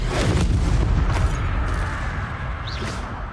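Confringo fire-blast spell exploding in Hogwarts Legacy, a loud booming impact with a whooshing rush that decays over a few seconds amid the game's battle sounds.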